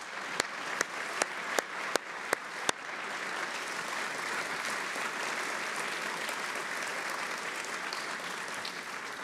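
An audience at a national defense forum panel breaks into steady, sustained applause that fills the room, opened by a few sharp, isolated claps before the crowd joins in.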